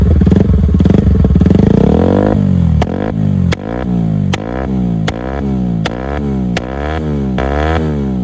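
Apache RTR 160 4V motorcycle fitted with an Akrapovic exhaust, revving loudly up to a sustained high note, then repeatedly blipping the throttle in a steady rhythm of sharp rises and drops, close to the microphone with no talking.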